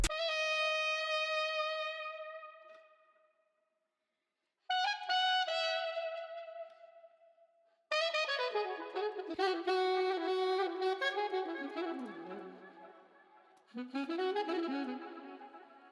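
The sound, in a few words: saxophone loop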